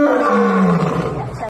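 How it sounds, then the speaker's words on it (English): A lion lets out one loud, close roar that falls from a harsh bellow into a rough growl before cutting off abruptly. "the lion produces one of the loudest and most terrifying roars in the animal kingdom"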